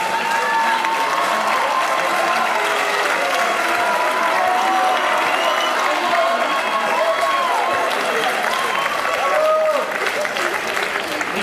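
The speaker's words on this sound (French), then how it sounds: "on peut les applaudir encore," Theatre audience at a speaking contest breaks into loud, sustained applause mixed with cheers and whoops, a thick wall of clapping that runs unbroken for over ten seconds, with scattered voices and shouts rising through the crowd.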